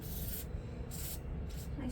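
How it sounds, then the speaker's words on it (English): WD-40 lubricant sprayed from a can into a stiff connector fitting, heard as three short hissing bursts close by, separated by brief pauses. "I spray in there with WD-40."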